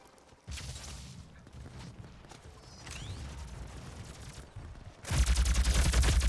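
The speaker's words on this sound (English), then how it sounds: "I'm being shot at from behind." Video-game gunfire in short rattling bursts, one near the start and a louder, denser volley toward the end, close and prominent with no talk over it.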